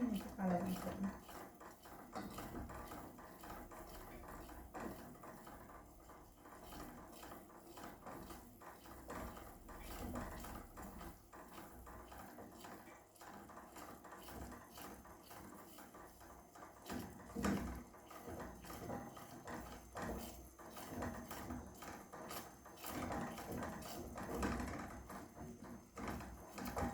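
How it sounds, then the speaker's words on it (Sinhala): Food stirred in a pan until browned, with continuous close scraping and clinking of a utensil against the pan, a faint sizzle underneath and occasional speech. "අපි තව ටිකක් දුඹුරු පාට වෙනකම් මේක කලවම් කරමු"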